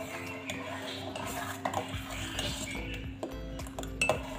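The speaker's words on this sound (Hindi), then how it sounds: "तो इस तरीके से इसको अच्छे से उबाला आने देते हैं और हिलाते रहेंगे" A pot of vanilla custard boiling while a spoon stirs it, giving steady scraping and clinks of metal against the pot, with sharper knocks now and then over a constant low bubbling hum.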